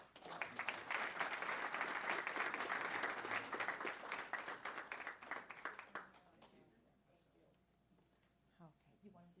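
A room full of people at a board meeting applauds warmly for about six seconds, then the clapping thins out and fades, leaving quieter room sound and faint voices.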